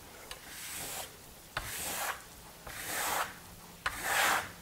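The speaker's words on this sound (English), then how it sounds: "I'm going over the plaster, okay? I'm compressing it." Steel trowel burnishing Marmorino lime plaster on a wall, four long rasping rubbing strokes, each starting with a sharp scrape and swelling, close and alone with brief pauses between.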